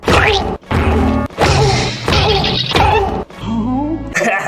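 Repeated loud heavy smashing impacts from a croquet mallet in a scene from The Shining miniseries, several forceful crashes in a row with brief gaps between them.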